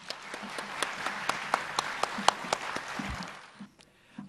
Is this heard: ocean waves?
no